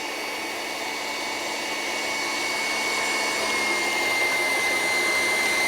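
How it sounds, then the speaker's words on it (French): Electric mixer running at maximum speed, beating butter for a strawberry-raspberry dacquoise filling; a steady, loud high-pitched whir that holds constant throughout with no talking. "On peut se mettre à vitesse maximum au batteur."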